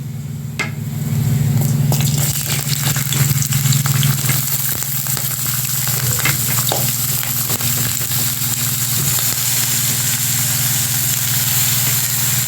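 Chopped cauliflower stems and unpeeled potatoes frying in oil with black cumin, a continuous close sizzle with a low hum beneath and scattered stirring clicks, steady throughout.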